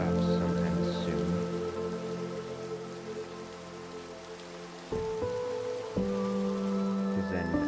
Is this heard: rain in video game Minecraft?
yes